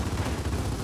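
Explosion in Gears of War 4, a brief, loud, dense roar filling the whole moment with no break or voice.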